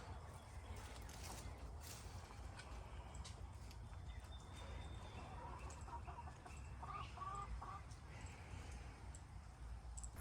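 Chickens cluck in a backyard coop in a home garden, a steady run of short clucks mixed into constant outdoor background noise, with no talking.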